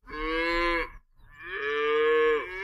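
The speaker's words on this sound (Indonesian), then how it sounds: "Wah, ini ada sapi nih. Wih, sapinya besar teman-teman." A toy cow gives two loud, close moos, a shorter call followed by a longer drawn-out one, with nothing else sounding around them.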